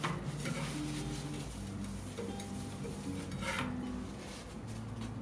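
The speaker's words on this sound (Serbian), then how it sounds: "Stavite tigan na nju i stavite malkice ulja, da to ne bi zagoralo. Naravno, to ulje morate da raspodelite malo." Oil spread around a frying pan set on a stove before pancakes are cooked, heard as light metallic scrapes and clinks over a continuous background hum and tonal noise.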